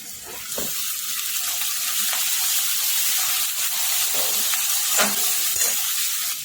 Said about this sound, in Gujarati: હવે એમાં આપણે ચટણી બનાવી હતી એ એડ કરીશું અને ચટણીને બી શેકાવા દઈશું